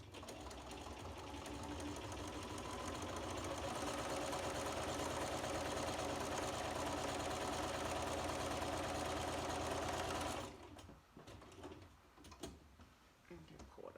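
A sewing machine runs steadily for about ten seconds, stitching quilt pieces along marked lines, then stops, leaving quiet handling of the fabric with a few soft clicks and rustles.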